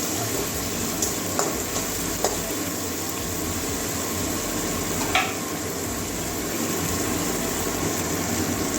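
Steady frying sizzle from a pan of salted onion and tomato, with occasional light clinks and stirring taps over the constant hiss.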